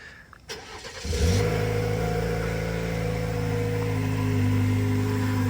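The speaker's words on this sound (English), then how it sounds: "Let's see how it sounds if we do a cold start." A 2023 Chevy Colorado Z71 cold-starts after a faint click. The starter whirs briefly, then the engine catches with a rising flare. It settles into a steady, fairly loud idle hum, close by.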